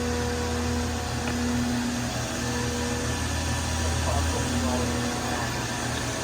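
The spindle of a 2007 Fadal VMC 2216HT CNC vertical machining center runs at about 3000 RPM, giving a steady, even whine and hum in a shop while people talk nearby.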